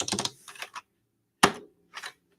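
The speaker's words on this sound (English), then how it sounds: "I'd recommend you copy paste instead of typing it like I am" Computer keyboard typing out a git command, a few quick clustered keystrokes followed by two sharper separate taps, close and clear in an otherwise quiet room.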